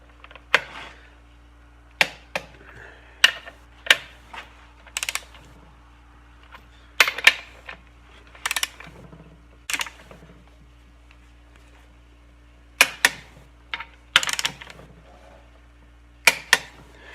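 Torque wrench clicking while tightening connecting rod bolts on a Perkins 152 engine, a series of sharp isolated metallic clicks spaced a second or two apart, sometimes in quick pairs, against a quiet low hum.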